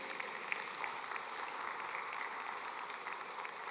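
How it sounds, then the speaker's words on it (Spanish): A church congregation applauds during a Father's Day service, steady, even clapping that sounds distant and fairly quiet, continuing without talk. "Ese aplauso es para Dios"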